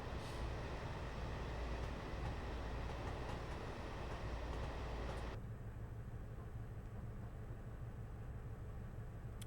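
HST train in a Train Simulator game rolling into Bristol Temple Meads, a steady, moderately loud rumble and hiss of the cab that shifts abruptly to a quieter, thinner drone partway through.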